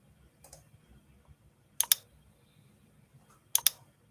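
A few faint, quiet clusters of clicking keystrokes on a computer keyboard, sparse and irregular over a low background hum, with no voices.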